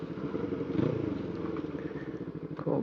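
A Suzuki Inazuma 250 parallel-twin commuter motorcycle being ridden, its engine a steady, close, throbbing drone mixed with road and wind rush.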